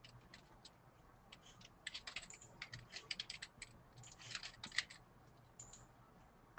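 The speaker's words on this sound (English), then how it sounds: "I can type that into the chat panel real quick here." Quick light clatter of fingers typing on a computer keyboard, faint and close, in irregular bursts of keystrokes over several seconds.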